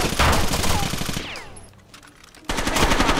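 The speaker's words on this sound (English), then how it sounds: "he's shooting me by the corner" Automatic gunfire from the shooter Rainbow Six Vegas 2 rattles in loud rapid bursts, cuts out briefly into a quieter lull, then resumes abruptly at full intensity.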